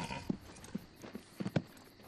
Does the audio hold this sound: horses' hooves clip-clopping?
yes